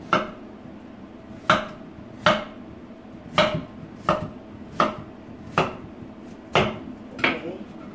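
Knife chopping ingredients for shrimp mofongo on a kitchen board, about ten separate firm thuds at an uneven pace, close and fairly loud with a quiet kitchen background.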